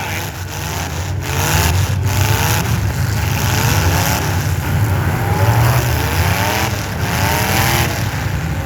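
Full-size street stock car in a demolition derby at a county fair: a loud, rough engine idles and revs in a low rumble with crowd and arena noise around it.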